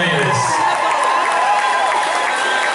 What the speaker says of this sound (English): Big round of applause for these beautiful ladies.